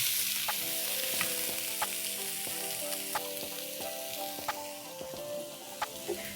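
Boiled potato pieces fry in a pan for bread samosa filling, a steady sizzle under regular sharp clicks and knocks of a spoon stirring against the metal.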